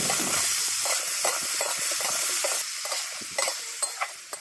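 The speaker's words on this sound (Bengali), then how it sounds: "এইদিকে ফুলকপি ভাজা করছি" Steamed cauliflower frying with salt and turmeric, a dense, close sizzle with scraping stirs throughout, fading slightly before a few distinct utensil knocks at the end.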